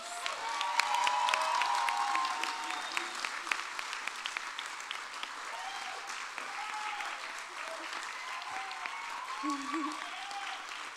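Sustained applause from an audience at a youth award celebration honoring Youth of the Year finalists, steady and fairly distant, with scattered cheers and voices mixed in throughout.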